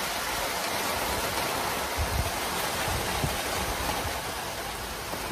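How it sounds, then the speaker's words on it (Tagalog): Heavy rain pours steadily in a dense, hissing roar, with a few low thuds underneath and no voices. "Malakas ang ulan eh."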